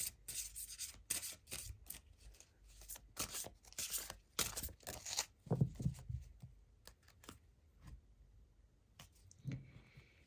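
Tarot cards are drawn and handled from a deck up close, making soft, intermittent rubs, slides and papery flicks in short bursts separated by quiet pauses.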